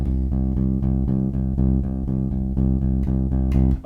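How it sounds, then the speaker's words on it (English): Bass guitar pumping a steady straight eighth-note rock pedal in a blues rock style, even repeated low notes driving forward at a close, loud level without any talking. "it's the straightforward eighth note rock pedal"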